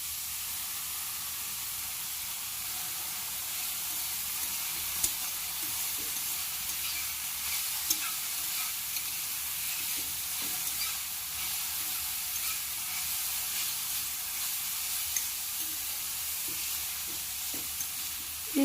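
Carrots and ginger frying in a pan give a steady, even sizzle and hiss that runs unbroken for the whole stretch, close by and moderately quiet, with a few faint ticks from the pan.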